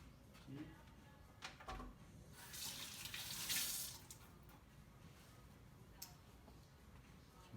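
Water runs from a kitchen tap into a container to dilute coconut milk powder, a brief hissing gush in the middle amid faint clatter and quiet room sounds.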